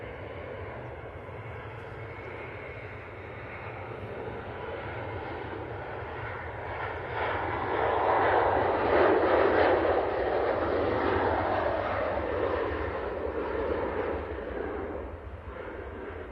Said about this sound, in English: it is the Gulf Air 787-9 Dreamliner coming in from Bahrain